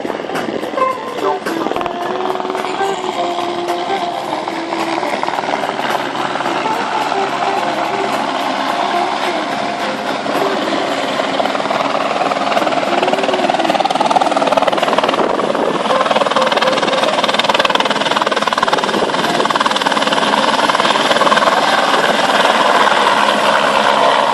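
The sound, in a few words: Écureuil AS350 B3 helicopter running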